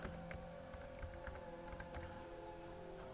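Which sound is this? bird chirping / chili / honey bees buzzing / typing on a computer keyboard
typing on a computer keyboard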